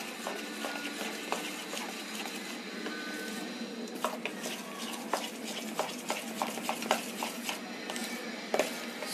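Cake batter with baking powder being stirred in a bowl for an eggless lychee cake, giving a steady wet scraping and swishing with small clinks of the utensil against the bowl, close and continuous with no talking.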